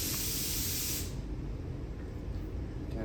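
An air compressor in a motorcycle shop lets out a loud, close hiss of escaping air that cuts off after about a second, leaving a steady lower mechanical rumble running to the end.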